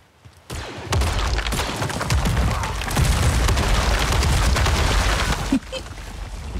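Blaster fire in Star Wars Jedi: Survivor, a dense run of sharp repeated shots and booms filling several seconds, loud and close over a rumbling game backdrop, then cutting off abruptly.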